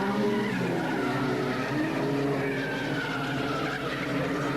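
Fina BMW race cars in the 1988 Production Car Championship pass on a circuit, their engines a loud, steady, strained roar with rising and falling tones as the cars sweep by close.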